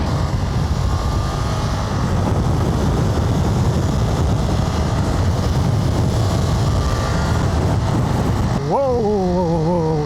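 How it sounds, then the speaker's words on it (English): Ducati Multistrada V4 RS motorcycle pulling hard in first gear in full-power race mode, heavy wind roar dominating until the engine note climbs steeply in pitch near the end as it accelerates. "Should we do a little pull here in first gear in full power mode?"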